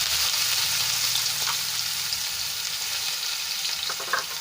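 Finely chopped onions and asafoetida fry in hot oil with a continuous close sizzle and crackle, and a few light stirring clicks near the end.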